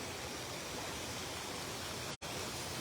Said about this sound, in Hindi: मैंने दरिया के पास जाना है, पानी की आवाज सुननी है।